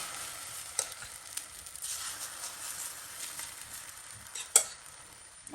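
Steady frying sizzle from a courgette roll in a pan over medium heat, a soft continuous hiss with a few small pops and clicks, no talking.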